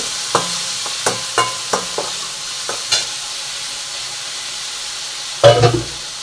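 A spoon stirs tomatoes in a cooking pan for a curry, mashing them down; a series of short scraping clinks and knocks sounds close by, ending in a louder burst of stirring.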